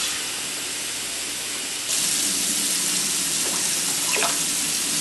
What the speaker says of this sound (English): we're going to go ahead and fill the bowl up with 4 cups of water.